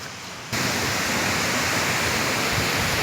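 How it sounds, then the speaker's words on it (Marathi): Water rushes down the forest stream by Ghonsari waterfall in Kankavli, Sindhudurg, in the Konkan, a loud, continuous broadband roar that begins abruptly and holds steady without talk. "आपला पाणी वाहता बघा."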